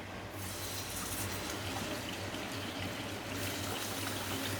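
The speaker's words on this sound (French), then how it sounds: "vous pouvez incorporer votre lait à température ambiante ou chaude" Milk poured into a cooked flour roux for a lasagne béchamel, a steady liquid pouring and trickling wash that runs continuously at even level, close by and alone with no talking.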